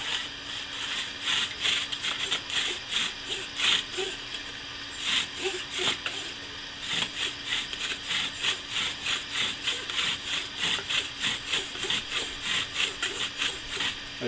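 A bow drill spins against wood in repeated rhythmic back-and-forth strokes while trying to make fire, giving a scratchy, squeaking rasp that rises and falls with each pass, close and fairly quiet.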